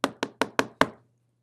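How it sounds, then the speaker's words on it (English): Five quick, sharp knocks rap on a door in a steady rhythm, close and loud, then stop abruptly and leave silence. "Knock at the door."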